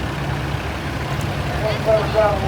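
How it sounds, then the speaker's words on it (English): A 1963 tractor with a selective speed transmission rolls by in a steam and gas show parade, its low engine rumble steady and fairly close beneath someone talking. "63 model, selective speed transmission. I like this tractor"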